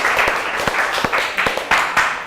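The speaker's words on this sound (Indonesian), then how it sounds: "tepuk tangan untuk kelompok" An audience in a school teaching session claps steadily for a group, with several loud claps standing out over a continuous patter of applause.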